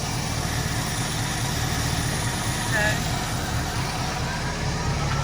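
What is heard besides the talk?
1973 Mustang engine idling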